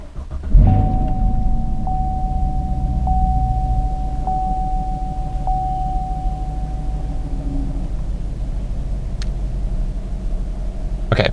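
A car being turned on: a low engine rumble starts with a thump and settles into a steady idle, accompanied by a thin repeating electronic chime, with no talk.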